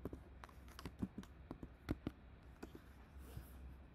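Close, quiet typing on a computer keyboard as a command is entered in a Kali Linux penetration-testing lab, with irregular key taps and a few sharper strokes over a low room hum.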